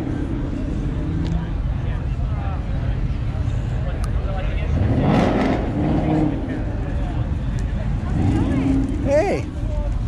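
A Ford Mustang at a Las Vegas Cars and Coffee meet revs its engine in a loud swell rising above the outdoor crowd murmur, while someone talks nearby.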